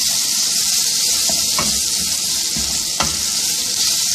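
Light golden brown onions fry in a pan with ginger garlic paste for keema kachori, a continuous loud sizzle broken by a few scraping stirs, no voices.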